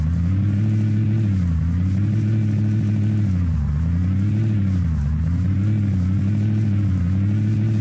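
A jeep engine in a Minecraft car mod revs in a loud, steady drone whose pitch swells and dips in slow, repeated waves, with no talking over it.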